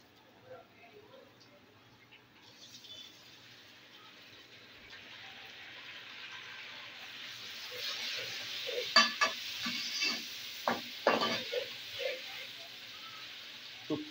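Tomatoes drop into frying ginger and garlic for a kadu chicken curry, building a rising sizzle, then a spoon scrapes and clatters rhythmically in the pot while someone speaks.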